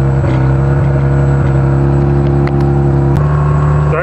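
A light aircraft piston engine is run up after a cold start in winter, droning steadily and loud at close range with a constant hum and slight shifts in pitch near the end.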